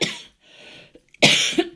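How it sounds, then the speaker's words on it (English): A person coughs during a podcast conversation: a short cough, a quiet pause, then a louder, harsher double cough close to the microphone with no speech. "I'm going to cough again as well, sorry."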